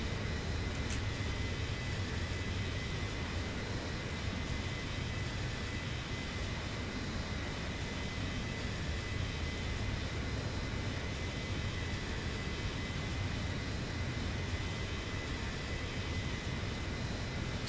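Boeing 737-900ER engines in the X-Plane 11 flight simulator just after takeoff from Portland, a steady, loud broadband roar with low rumble holding evenly throughout, no talking.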